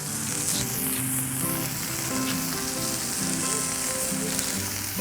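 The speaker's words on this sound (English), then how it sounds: "let's get these buns toasted up. We're gonna rub a little butter on here" Butter-rubbed burger buns toast on a Blackstone griddle, giving a steady, close sizzle that holds even throughout, with faint clinks and a low tonal hum beneath and no talking.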